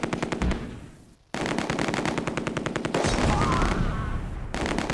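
Machine gun fire in the Close Combat: A Bridge Too Far war game, rapid sharp bursts of automatic shots at close range, a brief pause, then longer sustained rattling volleys.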